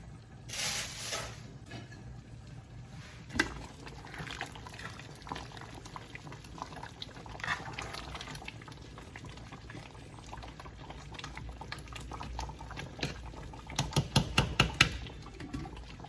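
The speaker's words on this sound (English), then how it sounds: "So it's now cooking on very low heat. Because I don't want it to boil, I just want it to simmer." Pot of yam and chicken pepper soup simmering over low heat, heard as a quiet, steady bubbling hiss with occasional soft pops and a few brief clinks near the end.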